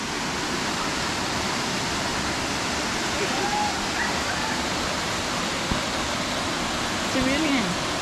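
Steady, full rushing roar of the Araluen Cascade waterfall in Finch Hatton Gorge, Eungella National Park, pouring into a deep swimming hole, close and constant, with faint voices under the noise.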